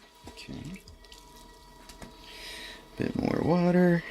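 Water added to wet clay while a tall mug is thrown on a spinning pottery wheel, heard as a soft trickle and splash, followed by a voice speaking close by.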